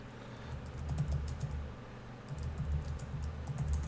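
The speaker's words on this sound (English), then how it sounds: "Can you hear me clicking away here?" Computer keyboard keys clicking in steady bursts of typing, close and fairly quiet, with a brief pause in the middle and no voices.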